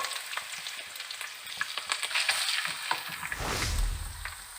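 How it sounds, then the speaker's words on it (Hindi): Chopped garlic and ginger sizzle in plenty of hot oil in a karahi for Shinwari chicken karahi, a steady close crackling hiss with stirring scrapes and a louder surge of frying near the end. "अब हम इसमें chop garlic and ginger add करेंगे।"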